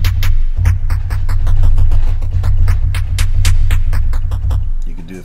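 A loud drum machine pattern in Logic Pro X through a bitcrusher effect, with gritty, crunchy hits and dense fast hi-hat ticks, the texture sounding rough and degraded before a short cut near the end.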